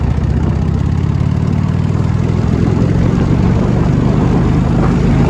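A Cushman Truckster runs in third gear, its small engine droning loud and steady close by for the whole stretch with a low throbbing rumble.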